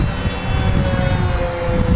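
Radio-controlled model MiG jet aircraft held at very low throttle, its engine giving a steady, continuous whine with a broad rumble underneath, close and fairly loud, with no pauses or talk.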